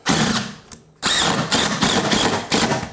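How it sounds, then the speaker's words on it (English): Power drill whirring in bursts while tightening screws into a wooden subfloor during prep for luxury vinyl flooring, loud and close, with a brief stop before the motor revs again in several pulses. "So we're gonna tighten this up a little bit more."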